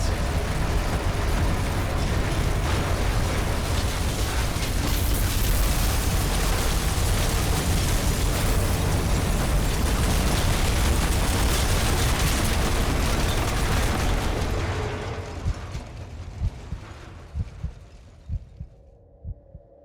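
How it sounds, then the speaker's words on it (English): A massive reactor explosion in the game F.E.A.R. roars as a loud, sustained rumbling blast with deep throbbing low end, holding steady for about fifteen seconds before breaking into scattered fading thuds and debris hits. "Massive explosion detected by Hannibal 3 spy satellite in the vicinity of classified Armacam facility moments before signal was lost"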